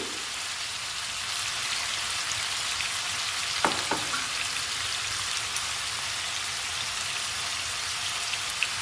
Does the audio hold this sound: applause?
no